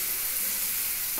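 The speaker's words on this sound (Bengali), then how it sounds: "জিরে গুঁড়োটাও একটু ভাজা হোক" Cumin powder frying in a pan makes a steady, close hiss of sizzling oil throughout, with a brief stirring scrape at the very end.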